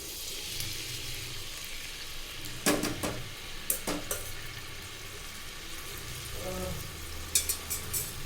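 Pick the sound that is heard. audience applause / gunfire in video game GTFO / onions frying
onions frying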